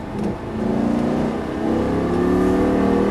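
A Lamborghini Gallardo accelerates at full throttle on a track during a passenger ride, its engine note climbing steadily and loudly with no pause.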